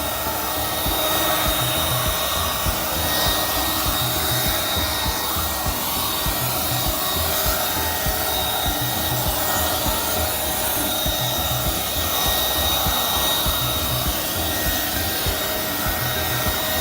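A blower runs steadily and loudly, drying a freshly applied PermaSafe coating across a car dashboard, with a continuous airy whoosh and no pauses.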